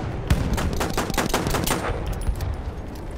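Continuous gunfire from the Battlefield 1 video game, a rapid automatic burst of loud, sharp shots that keeps going with scattered louder cracks throughout.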